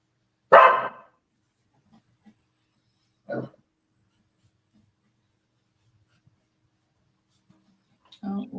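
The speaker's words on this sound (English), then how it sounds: "That's my dog." A dog barks a few sharp, isolated times indoors, one loud bark at the start, a softer one midway and another near the end, separated by near silence.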